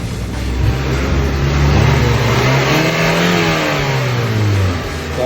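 A car engine revs up from idle after a throttle body install, the pitch rising and holding for a couple of seconds before dropping back down, loud and close.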